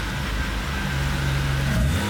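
BMW 320i E36 from 1992, an abandoned and vandalized car, its engine droning with a steady low rumble that swells slightly near the end; close and continuous, no talk.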